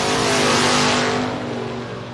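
Drag race cars launch at a track, one of them a Camaro, with a loud, dense engine roar that swells and then eases slightly as they pull away.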